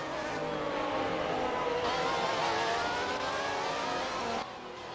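A safety car cruises slowly in a racing video game at the Australian GP, its engine a steady, loud drone that holds for several seconds before dropping off abruptly near the end.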